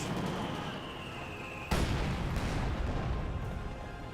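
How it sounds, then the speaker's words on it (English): Soviet mortar fire in the Company of Heroes 2 strategy game, one sharp booming impact over a constant rumbling battle ambience, with quieter distant thuds following it. "Regular Soviet mortars on the fallback now"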